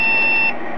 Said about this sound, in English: It's one long beep all by itself